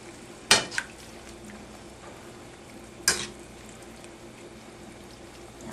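A ladle knocks twice against a pan of tomato sauce with crab meat, two sharp metallic clinks about two and a half seconds apart, with a soft simmer in between and no talk.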